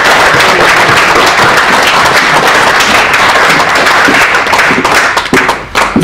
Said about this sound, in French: On peut encore applaudir encore plus fort pour notre...